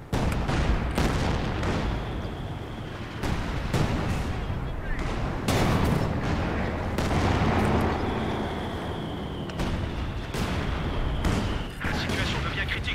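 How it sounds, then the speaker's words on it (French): Artillery fire and explosions in a World War II D-Day strategy game, as shells destroy an anti-tank gun: repeated loud, sharp blasts and booms at irregular intervals over a continuous rumbling battle background. "L'ennemi a détruit un canon anti-char."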